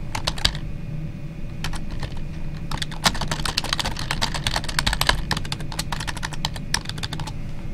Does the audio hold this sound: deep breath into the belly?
no